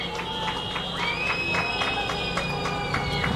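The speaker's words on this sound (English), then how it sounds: "And their loyal faithful cheer them on." Crowd of loyal home supporters cheering the North Whyalla Magpies at Bennett Oval during a women's football grand final, a steady broad roar with scattered claps and whistles throughout.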